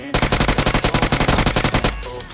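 Automatic gunfire in PUBG Mobile (BGMI): a rapid burst of about twenty sharp shots in an even rhythm, loud and close, ending with a short fading tail.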